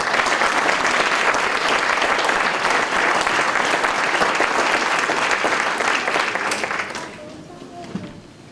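Sustained, loud applause fills a hall as an audience honors a man at a hometown heroes recognition ceremony. The dense clapping runs nearly the whole time, then fades away in the last second or so.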